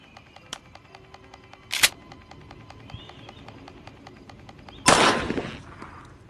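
Shotgun blasts in the horror video game Granny Chapter 2: two sharp, loud reports a few seconds apart, the second followed by a decaying burst, over a faint steady ticking background with no talk.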